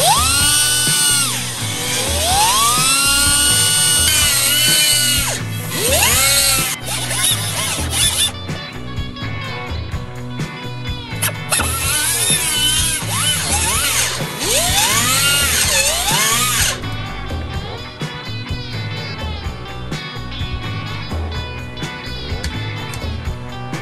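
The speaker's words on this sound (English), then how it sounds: "here we have an air grinder here, and this has got the special bit, a carbide bit" An air grinder fitted with a carbide bit enlarges a hole in a Jeep JL frame, a loud, close, high whine that rises and falls in pitch as it bites into the metal, running almost the whole time with no talk.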